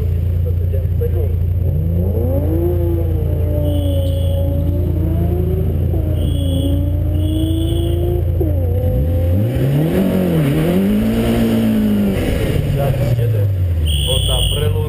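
A race car accelerates hard from the start of a hill climb on a mountain road, its engine note climbing through the gears and then sweeping past loudly, with a commentator speaking over it.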